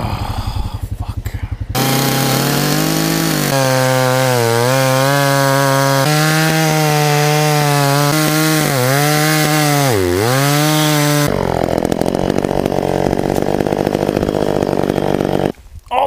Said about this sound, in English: All somebody's got to do is bring a damn chainsaw.